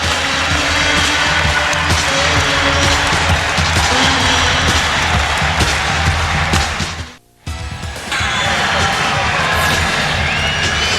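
A basketball arena crowd cheering during a Blazers comeback, a loud, sustained roar with clapping that drops out briefly and then swells again.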